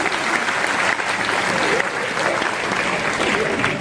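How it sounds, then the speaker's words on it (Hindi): An audience at an RCM business seminar claps steadily and densely for the whole stretch, a continuous wash of applause with no voices on top. "एक बार तालियां बजा दो"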